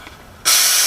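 A steam cleaner bursts on partway through, blasting a loud, steady hiss into the oil holes and channels of a Bernina/Oliva CL46 sewing machine during restoration, after a quiet start.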